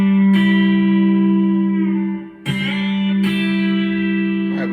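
A B-bender guitar lick on the top two strings rings loud and sustained, notes struck in a few separate attacks, with the pitch bending and sliding between them, and no voice.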